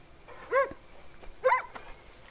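Boomer the dog in Far Cry 5 gives two short, whining whimpers about a second apart, each a thin rising-and-falling cry against a quiet background.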